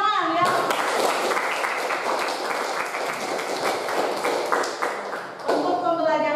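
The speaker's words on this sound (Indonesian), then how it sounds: "Ya, silakan tepuk tangan ya." Classroom clapping after a biology lesson on viruses, a dense patter of hands from a group of students lasting several seconds, with a voice speaking briefly at the start and end.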